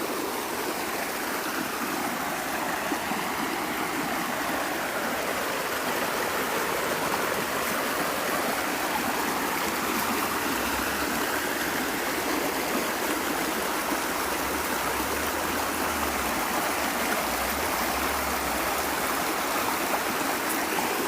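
A woodland river stream flows with a steady, full rushing and babbling wash that stays loud and unbroken throughout, with no voices.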